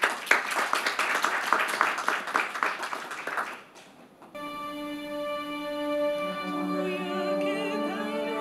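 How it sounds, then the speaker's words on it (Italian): Applause from an audience at an Italian conference on Leonardo da Vinci, steady clapping for about four seconds that fades out, followed by a sustained tonal sound, likely music. "Un grande applauso."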